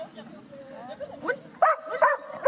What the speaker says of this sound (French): Viens, arrête d'aboyer.